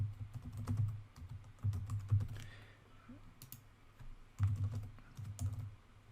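A computer keyboard clatters as a workflow name is typed into a network automation editor: quick bursts of close keystrokes separated by short pauses, with no talking.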